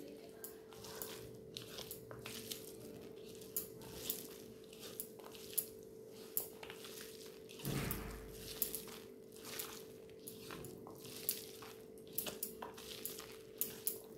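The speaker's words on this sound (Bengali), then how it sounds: "এবার ভালো করে মাছটা মাখিয়ে নেব।" Fried hilsa fish being mashed and mixed by hand with mustard oil and its frying oil, giving soft, steady squelching and squishing with small clicks of a pan or plate, faint and close.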